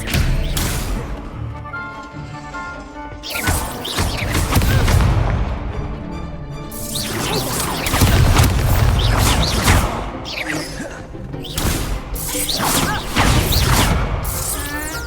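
Spell casting in the video game Hogwarts Legacy, loud booming impacts, crashes and whooshes in repeated bursts over a dense game soundtrack, with someone shouting spell names.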